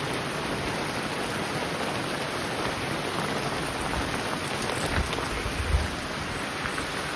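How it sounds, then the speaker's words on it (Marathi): Monsoon rain in the Konkan falls steadily as a dense, even hiss of drops on surfaces, continuous and fairly loud with a few heavier patters near the end. "आणि हो पाऊस."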